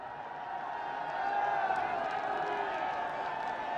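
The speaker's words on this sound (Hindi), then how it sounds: "आप अपने उद्घोष, जय घोष और तालियों से उनका स्वागत करेंगे।" A large outdoor crowd welcomes India's Prime Minister Modi at an airport foundation-stone event in Jewar, Uttar Pradesh, with a steady wash of distant cheering and clapping that swells slightly partway through and holds at a moderate level.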